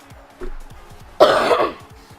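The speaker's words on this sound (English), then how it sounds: "sorry if I cough in this video" A single harsh, close cough with a brief throaty rasp, preceded by a small throat noise, over a quiet ticking background of football video game commentary.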